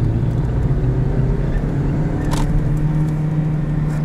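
A 2017 Toyota Yaris iA small four-door car being driven, heard as a steady, loud engine and road rumble from inside the cabin, continuous throughout with a brief lighter swish midway.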